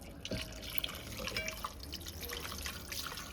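Water splashes and trickles into a thick plastic container left to soak, with quiet intermittent drips and pouring sounds at close range.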